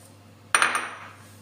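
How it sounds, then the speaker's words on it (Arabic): Cocoa is mixed into a dough mixture in a bowl, heard as a single sharp clink of a utensil striking the bowl, followed by a short ringing decay against a faint background hum. "ودركا نزيد الكاوكاو نخلطو معاه."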